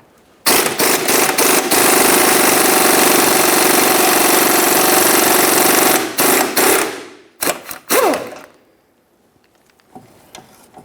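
Power tool driving off the 18mm mounting nut on a 2007-2017 Jeep Patriot 2.4L rear CV axle, one loud sustained buzzing run of about six seconds followed by a few short bursts and quiet.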